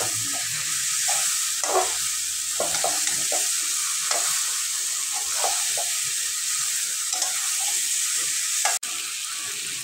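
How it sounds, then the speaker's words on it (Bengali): Jackfruit and shrimp being stir-fried with spices in a village kitchen, with a steady broad sizzle and repeated scraping strokes of the spatula against the pan, close and alone, with a brief sharp clank near the end. "মশলার সাথে ভালো করে কষিয়ে নিতে হবে এরকম করে"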